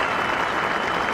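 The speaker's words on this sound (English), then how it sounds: "Warm applause for Justin Rose." Warm applause from the gallery at the 2007 Open Championship at Carnoustie, a steady, dense clapping that fills the whole moment at an even level without a break.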